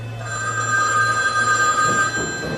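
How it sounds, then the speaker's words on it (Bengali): A telephone bell ringing in a Bengali audio drama, a steady electronic trill held throughout at moderate loudness with a low hum beneath and no voices. "অফিসে ফিরে আসার ঘণ্টাখানেকের মধ্যে উত্তর দিঘি থেকে বিরাজ দত্তর কাছে ফোন এলো।"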